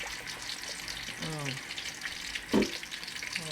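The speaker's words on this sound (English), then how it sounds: "Yep, so I'm just gonna let it fry" Fish frying in oil in a pot that is not very hot, a steady low sizzle running throughout, with a brief louder clatter or bubbling burst near the end and some faint vocal murmurs.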